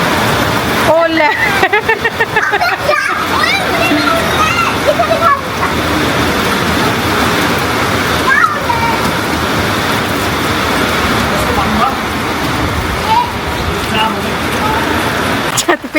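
Heavy monsoon rain with hail pounding a rooftop, a loud continuous dense roar and splatter throughout, with brief clattering bursts early on and voices talking under it.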